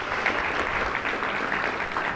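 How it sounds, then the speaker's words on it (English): Audience applause after a presentation on educational activities for student success, a soft, fairly distant wash of clapping that stays even throughout. "Let's give him one more round of applause for an excellent presentation."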